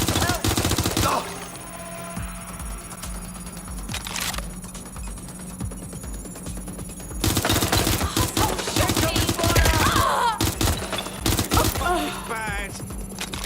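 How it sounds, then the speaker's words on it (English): Rapid automatic gunfire in the video game Watch Dogs Legion, loud bursts of shots that come in dense clusters over a steady game-sound backdrop, with a quieter stretch in between. "Shots fired!"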